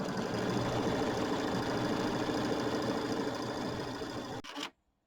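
An embroidery machine stitches the quilting on a small quilt with a steady, rapid mechanical whir and needle chatter, running close and unbroken before stopping abruptly.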